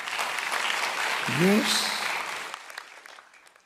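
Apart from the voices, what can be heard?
loud congregation applause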